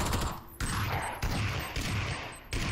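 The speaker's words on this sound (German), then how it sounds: "Schießt du jetzt mal mit der Tommy, Alter" Rapid bursts of Tommy gun fire in PUBG, several loud sustained volleys broken by brief pauses, close and dominant with no talk over them.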